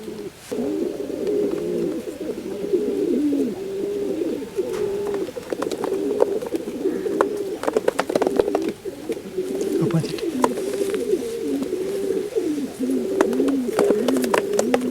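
Pigeons coo steadily in a loft during Lasota vaccination of the birds, a continuous layered chorus of low rolling coos, fairly close and loud, with occasional handling noises and faint talk.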